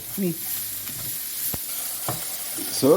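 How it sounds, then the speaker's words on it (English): Food sizzles and crackles in a pan with a steady hiss, punctuated by a few sharp clicks and scraping stirs. "it's just been frying for a minute or two."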